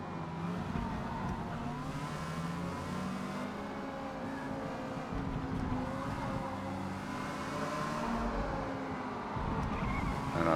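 A B-class Exocet race car in Forza Motorsport drifts through the corners at Yas Marina. Its engine hums in a steady, moderately loud drone that rises and falls slightly with the throttle, with no talking.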